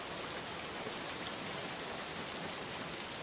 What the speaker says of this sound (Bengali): তিন দিন ধরে একটানা হয়ে চলেছে অঝোরে বৃষ্টি